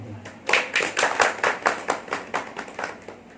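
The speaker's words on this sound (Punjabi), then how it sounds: "ਕਾਲੀ ਧਾਰ ਬਟਾਲੀਅਨ ਦੇ ਨਾਂ ਤੇ ਤਾੜੀ ਜ਼ਰੂਰ ਮਾਰਨੀ ਚਾਹੀਦੀ ਹੈ" An audience claps in honour of the Kali Dhar battalion, a short, close round of about a dozen rhythmic hand claps that rises and then fades.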